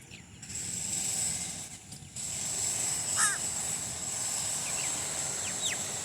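Birds chirp in the rain in short scattered calls over a steady hiss of rainfall, with some repair work clattering in a nearby flat.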